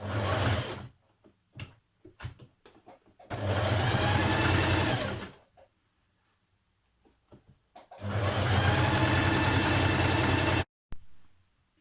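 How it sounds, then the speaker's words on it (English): A sewing machine top-stitches around the armhole of a jersey dress, close and loud, in two long steady runs separated by a pause filled with small clicks and handling noises. "top stitch down onto the dress a couple of millimetres away from the band, all the way around the armhole"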